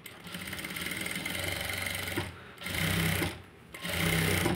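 A sewing machine stitches thread piping onto a round neckline, close and loud, running in three bursts of rapid mechanical whirring separated by short pauses.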